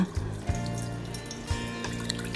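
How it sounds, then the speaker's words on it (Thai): Water pours into a pot of washed rice for cooking, a continuous close trickle and splash with a few soft knocks, brief and unaccompanied by speech. "ล้างเสร็จแล้วเราก็จะเติมน้ำ เพื่อที่จะหุงนะคะ"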